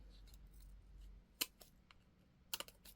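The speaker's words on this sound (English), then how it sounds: "I am, however, going to peel it and trim some of this off" Small sharp scissor snips trimming cured resin on a leaf earring, two or three crisp close clicks spaced apart over faint room quiet.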